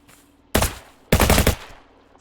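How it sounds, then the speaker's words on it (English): Gunshots from the video game Unturned 2, two loud, sharp blasts about half a second apart, each with a short rattling tail, against near silence. "And now if we shoot once,"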